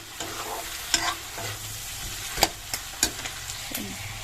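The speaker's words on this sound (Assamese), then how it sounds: "এইফালে মাছো ফ্ৰাই কৰি আছোঁ" Fish fries in hot oil with a soft, continuous sizzle, broken by a few sharp pops and the scrape of stirring, close by and with no voices.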